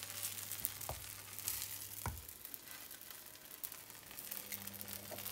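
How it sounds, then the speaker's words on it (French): Slices of bruschetta bread fry in hot oil in a pan with a faint, continuous sizzle, broken by a few soft clinks of the pan. "notre pain il est en train de bien griller"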